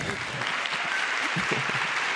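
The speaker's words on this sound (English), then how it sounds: "give her a round of applause for that" A crowd claps steadily throughout, a dense wash of applause close by, with a voice faintly audible beneath it.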